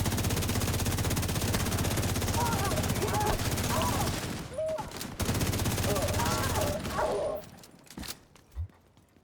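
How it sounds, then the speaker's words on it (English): Shotgun fire in a video game: dense, rapid bursts of shots run loud and continuous for several seconds, break off, resume, then thin into a few scattered reports at the end. "Which was a shotgun."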